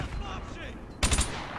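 Gunfire in the Modern Warfare 2 campaign: a loud burst of three rapid shots near the end, following a stretch of game ambience and faint voices.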